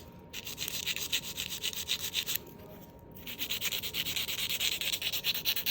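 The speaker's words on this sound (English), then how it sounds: "remember, when you're filing" A nail file rubs back and forth against acrylic nail tips in quick, even strokes, soft and close, with a short pause midway before the rhythmic filing resumes.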